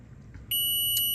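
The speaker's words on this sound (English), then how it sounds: "silence the buzzer" A timer buzzer sounds at the end of a cycle, a loud, piercing electronic tone that starts abruptly halfway through and holds steady, following a brief stretch of quiet handling noise.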